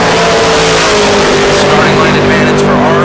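A Camaro drag car launches at a bracket race, its engine roaring loud and close over a bright, continuous mechanical drone, with a race announcer talking over it.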